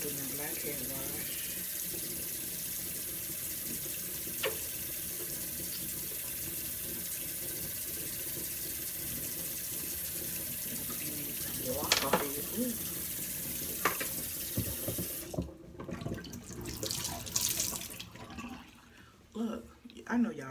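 A sink tap runs during face washing, a steady close hiss of flowing water that continues through most of the stretch, with light handling knocks and splashes and a brief change near the end.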